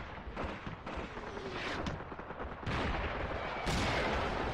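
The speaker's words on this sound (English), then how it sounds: "Some more of those guns going off." Artillery guns fire repeatedly on a World War II battlefield in Graviteam: Fateful Strike, with booming blasts and rumbling gunfire overlapping in a dense, continuous barrage at mid distance.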